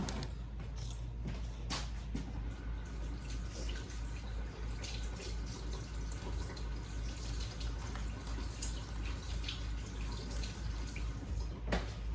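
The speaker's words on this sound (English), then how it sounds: "I do need to wash my hands again" Tap water runs into a kitchen sink during hand washing, a steady close hiss with small clinks and knocks over it. Faint room noise sits underneath, and nobody speaks.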